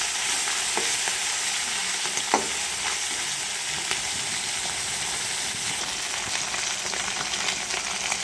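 Fish frying in a pan in a home kitchen, a steady, close sizzle and crackle of hot oil lasting throughout, with occasional faint clicks and scrapes of stirring and no talking.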